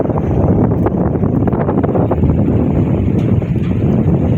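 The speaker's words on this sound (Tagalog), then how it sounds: "sobrang lakas na naman po ng hangin" Strong, roaring storm wind buffeting the microphone, loud and constant with heavy low rumble throughout.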